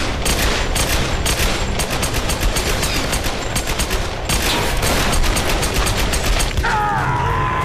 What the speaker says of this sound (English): Grab the gun and shoot.